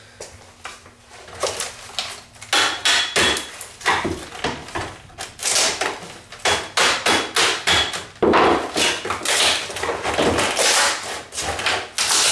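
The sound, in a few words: hammer striking a chisel or screwdriver on a model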